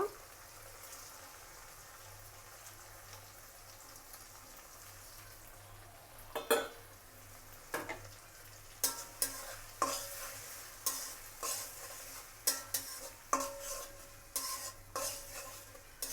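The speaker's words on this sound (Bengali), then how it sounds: "এখন আমি ছোট চিংড়ি মাছগুলো দিয়ে দেব" Small shrimp go into a hot pan with potatoes and fry with a steady low sizzle, broken up by repeated clanking strokes of a spoon stirring against the pan.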